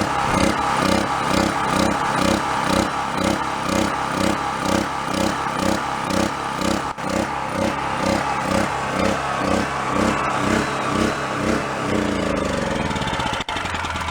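A small Chinese-made portable generator engine runs with its governor hunting, so the RPM surges up and down in a steady rhythmic wobble, loud and close with no talk.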